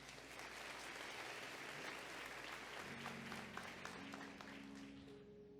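Church congregation clapping for a man named Germano at a sermon, a sustained, even wash of applause, faint and somewhat distant, with a low hum entering partway through.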